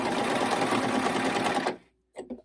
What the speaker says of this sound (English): So I just did a few stitches.